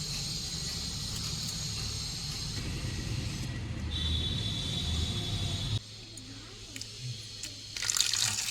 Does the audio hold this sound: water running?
yes